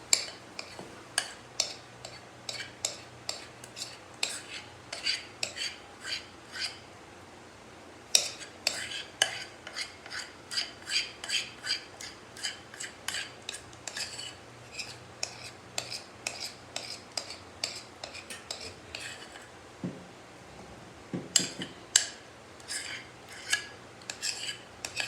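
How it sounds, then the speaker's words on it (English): A spoon or mixer taps and scrapes steadily against a large bowl while peanut butter is worked into butter, a quiet, regular clicking rhythm that runs throughout, with a brief pause near the end. "we're going to be mixing in our peanut butter"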